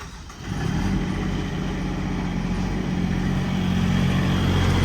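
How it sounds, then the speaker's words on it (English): The diesel engine of a 2016 Ford F550 extended cab mechanics truck cranks and catches after the glow plugs cycle, then settles into a loud, steady, close idle rumble. "We'll cycle the glow plugs and then it will start."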